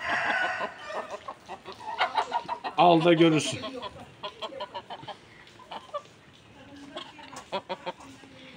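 A fighting rooster clucking close by, giving a series of short, rhythmic clucks and a louder burst in the middle, with someone speaking Turkish alongside it.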